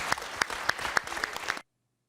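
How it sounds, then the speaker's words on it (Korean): Committee members give a short round of applause: a handful of distinct, scattered claps over about a second and a half, then abrupt silence. "위원 여러분 먼저 박수 한번 좀 보내주시죠"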